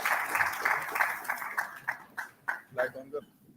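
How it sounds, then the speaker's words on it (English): A conference audience at the India Supply Chain Conference applauds as a speaker comes on stage: dense clapping starts strong, then thins into a few scattered claps, with voices murmuring underneath. "Please give him a big round of applause"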